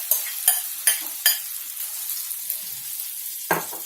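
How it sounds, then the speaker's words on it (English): Chilies and diced potatoes fry in a pan, a soft steady sizzle broken by several sharp scrapes and clatters of a spoon stirring, close and clear with no voices. "We want these chilies to fry a bit. And then goes in our diced potatoes."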